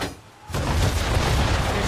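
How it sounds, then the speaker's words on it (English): Ship cannon fire in Assassin's Creed 3 booms in loudly about halfway through after a quieter opening, then rumbles on as a sustained, heavy roar of shots to the end. "Why is he shooting at us?"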